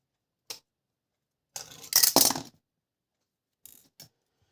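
A screwdriver works on the cover of a Podolka sewing machine, producing a few sparse metallic clicks and scrapes, with one short burst of rattling in the middle and quiet gaps between.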